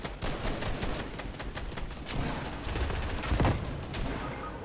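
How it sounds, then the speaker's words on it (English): Rapid automatic gunfire from a Fortnite shootout, a steady run of close, evenly spaced shots with a few heavier thuds near the end, with no talking over it. "They're gonna shoot it out."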